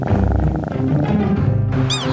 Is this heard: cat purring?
yes